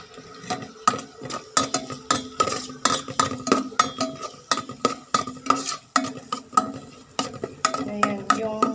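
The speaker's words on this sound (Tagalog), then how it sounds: "Sibuyas po muna ang inuna natin na ginisa" Onion and garlic sautéing in a pan, stirred with a metal utensil: a run of rhythmic scraping and clinking strokes, close and fairly loud, over a light sizzle, with no talking.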